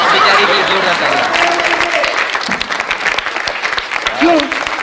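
A comedy show audience claps and cheers for stand-up comedian Raju Shrivastav's funny act, a dense sustained wave of applause throughout with some laughter mixed in.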